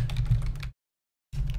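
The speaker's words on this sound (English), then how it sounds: "hold on, I'm typing this as well." Rapid keystrokes clatter on a computer keyboard at close range, a dense run of taps that breaks off into silence and then resumes.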